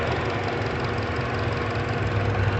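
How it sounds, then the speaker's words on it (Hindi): A Hyundai Alcazar's four-cylinder DOHC petrol engine idles with a steady, even drone and a constant low hum, recorded close to the running engine with no talk. "अब सुनते हैं इसकी इंजन की नॉइज, आइडल इंजन की।"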